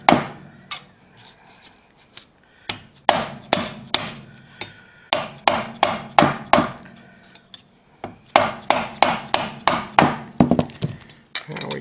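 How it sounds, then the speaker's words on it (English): Repeated sharp dead blow hammer blows on a metal tab while forming a Pietenpol aircraft elevator horn, coming in irregular bursts of quick strikes with short pauses between, close and loud. "with the dead blow hammer and a glancing blow"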